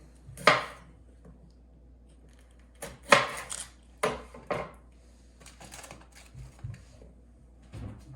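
Smoked green chili pepper halves being seeded in a sink: a few distinct knocks and scraping bursts against a hard surface, irregular and close, separated by quiet gaps, with no talking.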